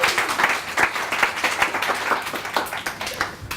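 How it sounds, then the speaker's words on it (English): An audience at a sales mastery seminar gives a round of applause, with dense, steady clapping from many hands that stays fairly loud and even, with a few brief voices mixed in. "Give him a round of applause!"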